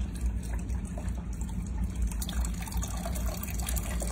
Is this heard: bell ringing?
no